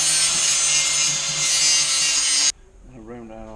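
Wooden shelf top being rounded off with a tool, loud steady abrasive grinding that stops abruptly, after which someone talks.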